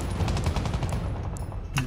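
A machine gun in Battlefield V fires a steady rapid stream of shots during a breakthrough match at Arras, a continuous rattling burst that stays loud and near for the whole stretch.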